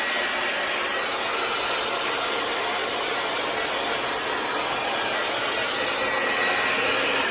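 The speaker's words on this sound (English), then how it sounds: "I just use a cheap hair dryer" A cheap hair dryer blows with a steady, loud, airy roar that holds constant throughout, with no talking.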